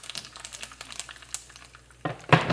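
Whole spices crackle and sizzle in hot oil for a Gujarati tempering (vaghar) for handvo, with the gas already turned off, giving scattered sharp pops that swell into a louder burst of spluttering near the end.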